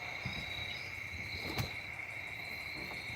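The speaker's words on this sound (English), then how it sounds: "There's a cricket in the garage." A cricket chirps steadily inside a garage, a thin, continuous trill that sounds close but quiet, with no voices present.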